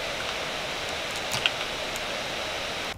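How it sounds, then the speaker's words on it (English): Cooling fans of a gaming laptop running in performance mode give a steady, broadband whoosh that holds at an even level throughout, fairly loud and close, with no talking. "The next test is with the laptop running in performance mode."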